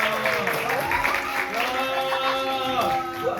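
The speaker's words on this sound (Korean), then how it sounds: "큰 박수로 맞이해 주세요." Steady applause from a university department event audience fills the space, many hands clapping continuously at moderate loudness.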